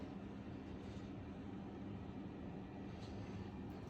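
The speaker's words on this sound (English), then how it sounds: "So that's the noise that they make outside." Ventilation duct fans for a soundproof studio run outside the room as a steady, broad rumbling whoosh with a low hum, constant and fairly close throughout, with no talking.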